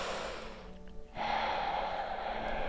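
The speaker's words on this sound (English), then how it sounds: "2 more deep breaths." Deep breathing during a chair yoga session: a slow, airy inhale fades into a pause, then a long, steady exhale follows, close and alone with no talk.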